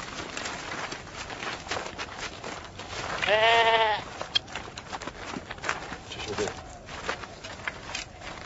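A sheep lets out one wavering bleat, close and loud for under a second, surrounded by people talking and background bustle in a drama about Joseph.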